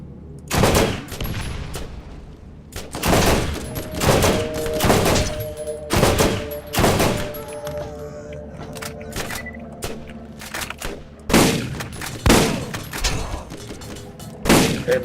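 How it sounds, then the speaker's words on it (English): Automatic gunfire from Roland's starter machine gun in Borderlands 1, loud bursts of rapid shots recurring through the scene, with game effects and occasional other sounds between volleys. "like Roland's starter machine gun"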